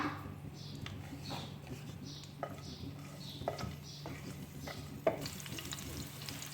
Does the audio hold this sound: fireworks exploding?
no